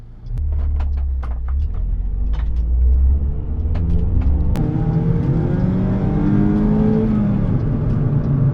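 Mazda Miata ND RF sports car engine revving up, a loud, close rumble climbing in pitch, then holding a higher drone through the second half, with faint clicks early on.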